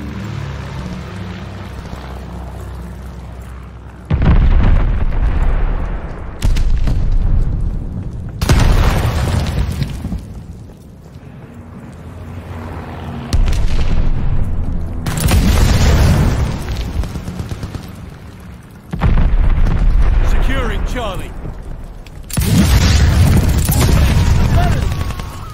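Heavy bomber explosions in Call of Duty: Vanguard hardcore Domination on the Berlin map land as repeated deep booming blasts, each lasting a few seconds and spaced several seconds apart, loud and rumbling, over the quieter din of the match.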